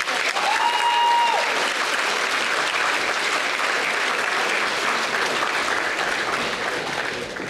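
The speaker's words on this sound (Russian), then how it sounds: "Аплодисменты этого зала." A school hall audience of children and teachers claps steadily, a dense even wash of applause heard close, with a faint voice briefly over the start.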